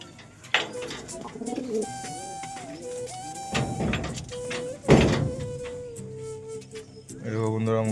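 Pigeons cooing inside a pigeon cage as its tent cover is opened, several soft coos near and mid-distance mixed with rustling and clattering of the cover and cage.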